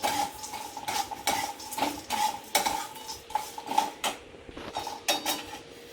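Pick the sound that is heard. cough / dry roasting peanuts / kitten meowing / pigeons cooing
dry roasting peanuts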